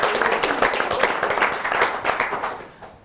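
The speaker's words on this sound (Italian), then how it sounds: "Un applauso, grazie." An audience at an Italian boxing federation event claps for a regional committee president, a dense burst of applause that fades away near the end.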